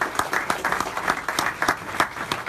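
Audience applause for lottery winners at a Loto-Max jackpot winners' event in Drummondville, a steady crowd of many hands clapping with sharp individual claps standing out, sustained throughout at moderate loudness.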